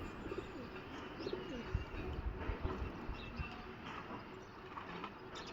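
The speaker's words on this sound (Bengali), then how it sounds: "লালপারি কবুতর" A Lalpari highflyer pigeon cooing in a home breeding loft, soft low coos repeating close by over a busy background of other birds and faint rumbling.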